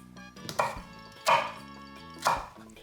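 Knife slicing the core out of pineapple slices on a board, three distinct crisp cuts at roughly even intervals over soft background music.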